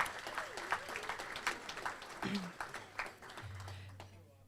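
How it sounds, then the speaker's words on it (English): Applause at a Tri-City Regional Chamber of Commerce meeting, scattered clapping from a room of attendees that thins and fades toward the end, with some voices and murmur mixed in. "Let's give them one more round of applause."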